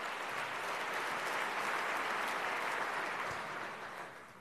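An audience breaks into steady, sustained applause, a dense wash of clapping that holds evenly and then begins to fade toward the end, with no voices over it.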